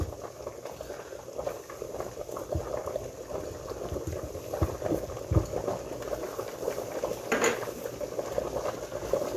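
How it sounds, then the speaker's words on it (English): Nine chopped garlic cloves cooking in a pan for linguini shrimp scampi, a soft bubbling sizzle with frequent light clinks and scrapes of a utensil stirring against the pan. "now we're gonna add 9 cloves of garlic chopped up."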